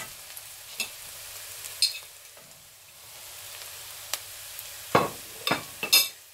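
Spices roast in a pan with golden brown onions for an Indian kadhi pakora: a soft, steady sizzle with a few sharp scrapes and clinks of stirring that bunch up near the end.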